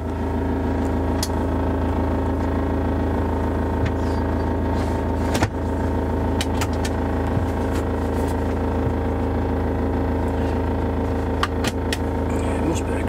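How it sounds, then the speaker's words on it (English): Bent exhaust on a motorhome rattling against metal bodywork, a steady vehicle drone with faint intermittent clicks and taps running throughout, voices talking over it. "it's just touching the metal and it's just rattling"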